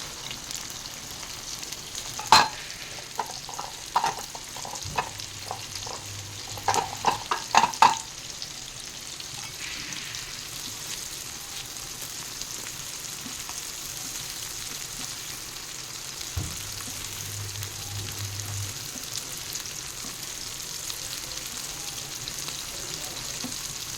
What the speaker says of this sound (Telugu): ఇవి మంచిగా వేగాలండి